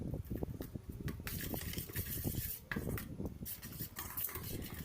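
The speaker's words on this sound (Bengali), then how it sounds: "একটা চামচের সাহায্যে এবার মশলাটাকে খুব ভালোভাবে মিশিয়ে নেব।" A spoon scrapes and stirs spice paste for steamed chicken, producing irregular close wet rubbing and clinking strokes against a bowl, fairly quiet with no talking.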